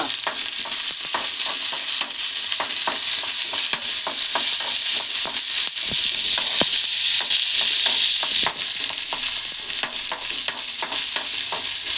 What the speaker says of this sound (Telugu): ఆనియన్ కూడా వేయించుకున్నాం. కొంచెం ఆయిల్ వేగాల కదా.